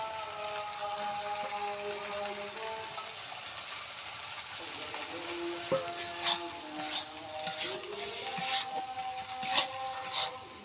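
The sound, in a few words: fried dried shrimp added to sizzling masala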